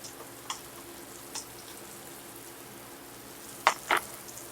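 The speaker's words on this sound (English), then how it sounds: "once my butter starts to melt, I want to go ahead and get my celery and habanero pepper up in there" Celery and habanero pepper fry in melted butter in a pan, a low steady sizzle with a few sharper scraping or stirring bursts, close and fairly quiet.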